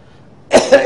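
A short cough bursts out from someone in a congregation during a sermon, a couple of quick rough hacks after a near-silent pause, with no speech.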